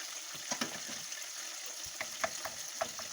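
Water added to leftover rice in a hot pan sizzles steadily, with a few sharper crackles and pops scattered through the close, continuous frying hiss.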